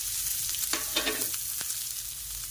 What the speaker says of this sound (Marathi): हे आपण फ्राय करून घेऊया